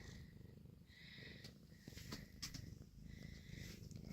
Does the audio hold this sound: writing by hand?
no